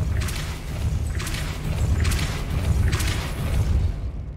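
Depulso force spells cast repeatedly in Hogwarts Legacy, four evenly spaced whooshing bursts over a steady low booming rumble, loud and close with no talking.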